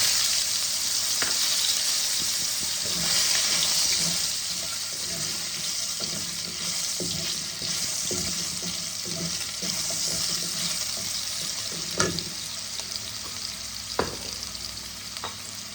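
Potatoes fry in a pan with a steady close sizzle and repeated stirring scrapes, with a few sharp utensil knocks toward the end.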